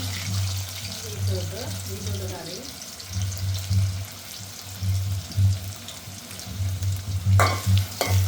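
Tapioca root poriyal fries in a pan with steady sizzling and stirring scrapes, close and moderately loud, while a voice talks intermittently over it.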